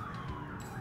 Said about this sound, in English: Excuse the sirens going past.